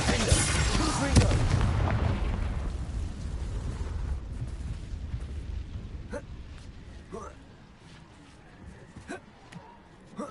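Bombarda and Confringo spells exploding in Hogwarts Legacy, a heavy booming blast that rumbles and fades, followed by scattered sharp pops and crackles over lingering noise.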